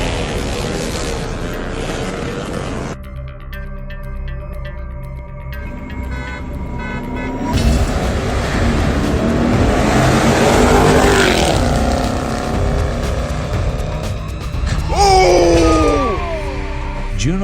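A group of motorbike riders waiting to cross a street, their engines droning and revving loudly and steadily throughout, with a rising whine of acceleration near the end.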